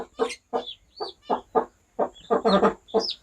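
Close clucking of turkey chicks comes in a rapid series of short, separate calls, loud and distinct, with brief pauses between them and no talking.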